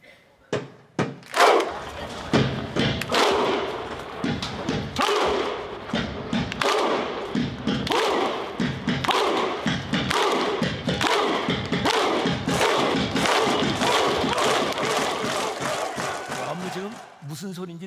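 Iceland football fans at the World Cup performing the Viking thunder clap chant, with slow, heavy, evenly spaced booming claps and shouted grunts from a huge crowd that gradually speed up into a dense rattle before fading out.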